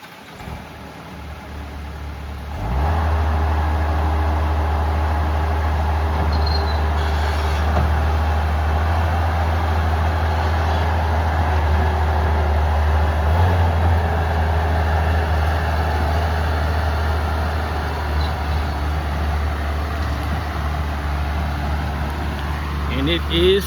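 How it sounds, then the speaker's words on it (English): A Bobcat T190 compact track loader works nearby, its engine a steady, loud drone that starts a few seconds in and holds throughout, with a person talking occasionally. "watch what that T190 do."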